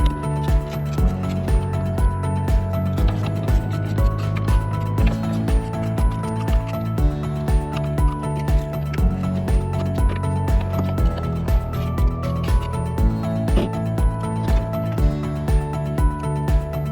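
A ratchet with a 10mm socket removes the side mirror bolts on a 2009 Nissan Altima, giving rapid, evenly repeating clicks that run steadily and close up throughout, with no talking.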